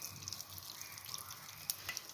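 Hot oil sizzling in a pan for tempering (oggarane) for a brinjal gojju, a steady close crackle and hiss with small sharp pops.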